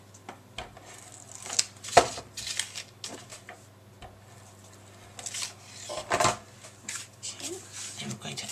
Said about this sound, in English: Run your tape along the top and then down each side.